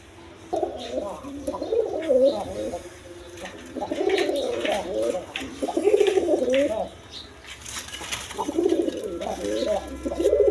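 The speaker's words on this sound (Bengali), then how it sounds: "এখানে একটা বুট ঠোঁটের মসল্লম কবুতর মাদি কবুতর আছে" Pigeons at a pigeon farm, including a female Mussolom with a boot beak, cooing in repeated rounded bursts that stay close and steady, with short pauses between calls and a faint background hum throughout.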